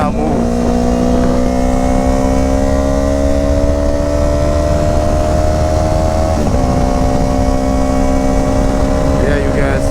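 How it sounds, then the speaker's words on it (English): Motorcycle engine revving steadily with a broken clutch cable, so the bike stays in place; a loud, continuous near drone with a brief dip and recovery partway through, heard at a car show. "if I give it throttle, the rev will go show up, but the bike will not move"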